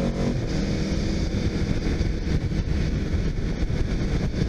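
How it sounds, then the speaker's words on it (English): A 2018 Aprilia RSV4 RF motorcycle roars steadily under hard acceleration, its engine note loud and continuous with wind rush, and an on-throttle upshift from the auto blipper barely breaking the drive. "Man, that on-throttle upshift is to die for, good lord."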